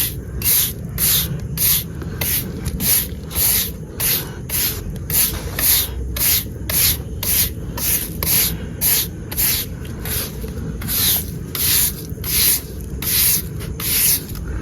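A stiff brush scrubs a stone slab in quick, regular strokes close up, each a sharp rasping swish, repeating steadily for about fifteen seconds with no talk.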